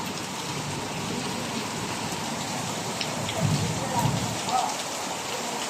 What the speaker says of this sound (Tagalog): Talagang naulan eh.